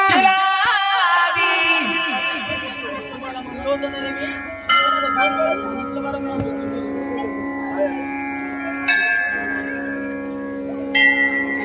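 Temple bells ring out repeatedly with long resonant tones, several strikes overlapping and sustaining, loud and close, with a murmur of voices faintly beneath.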